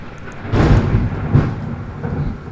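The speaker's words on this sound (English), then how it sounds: "That thunder is diabolical." Deep rumbling thunder rolls outside during pouring rain, a broad low swell that builds, peaks and fades over a couple of seconds with no voices.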